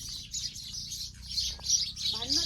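House sparrows chirping and squabbling in a tree after rain, a busy cluster of close, high twittering calls.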